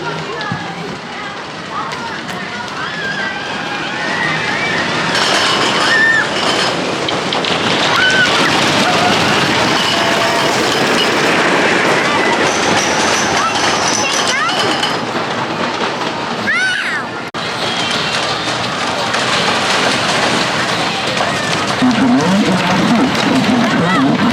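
A Blue Flyer wooden roller coaster ride at Blackpool Pleasure Beach, with a steady loud rumble and clatter of the cars running along the track throughout, gusting wind noise and occasional distant voices.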